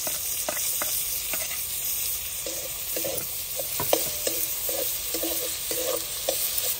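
Onion and tomato sauté in an oiled pan, a steady close sizzle running throughout while a spatula scrapes and stirs in irregular short strokes.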